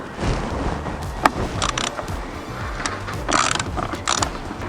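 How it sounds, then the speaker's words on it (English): A ground clip is fastened onto a 10 mm bolt on a car during a dash cam hardwire install, with faint metallic clicks and brief ratcheting over a quiet background, nobody talking. "I'm going to connect this to that bolt so that we can get our ground connection"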